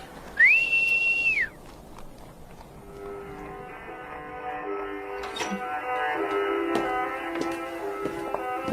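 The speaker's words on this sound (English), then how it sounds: "whistle me up a cab" One sharp, loud whistle blast rising to a sustained high note, followed by quieter tonal background sounds.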